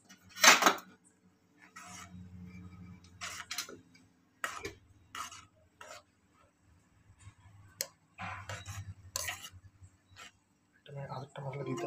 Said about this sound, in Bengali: ছেড়ে এবার একটা চামচ দিয়ে এটাকে নাড়িয়ে দিতে হবে, যাতে পুরো ম্যাগিটা জলের মধ্যে ডুবে যায়।